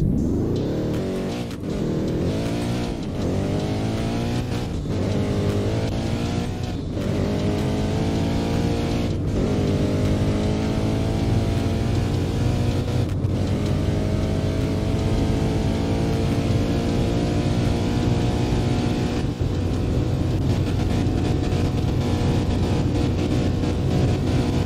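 A 2014 Koenigsegg Agera R in a Roblox racing game accelerates hard to top speed, its loud engine tone climbing through repeated gear-shift sweeps, then holding a steady high drone, with no talking.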